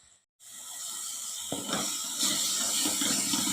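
Ground shallot paste sautéing in a pan: after a short silence a steady hiss rises and grows louder, with a sharper burst of sizzle as more hits the hot oil.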